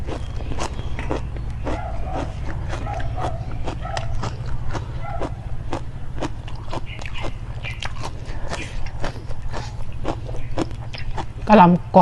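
Crunchy chewing of a spicy Thai salad with crisp cabbage and plump mollusc pieces, a steady run of close, sharp bites repeating through the clip over a constant low hum, with a louder clatter near the end.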